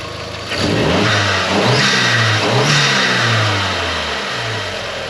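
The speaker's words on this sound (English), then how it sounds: "I'm just going to give it a couple of revs now" A first-generation Audi TT with a cheap front-mount intercooler just fitted gets a couple of revs, the engine climbing from idle into two or three rising blips before settling back, loud and close with no talk.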